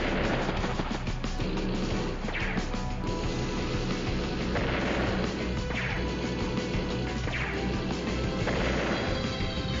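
A tank is destroyed in the strategy video game Advance Wars: Days of Ruin, with repeated loud smashing crash and whoosh impacts roughly every two to three seconds over dense game music and effects.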